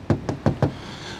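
Four quick, close knocks on the plastic door sill of a Renault Mégane E-Tech in Techno trim, each a short, hollow tap.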